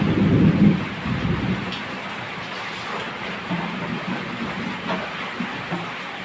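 Thunder rumbles during a heavy rainstorm. A loud, deep crack opens the clip and fades into a low rolling rumble under steady rain noise, with no talking.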